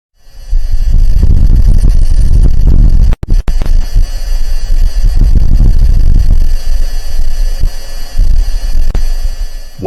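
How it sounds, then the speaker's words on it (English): A gust of wind on the surface of Mars, recorded by NASA's Perseverance rover, comes through as a loud, low, buffeting rumble that throbs and surges, briefly cutting out before resuming. "What you just heard is an actual gust of wind on the surface of Mars."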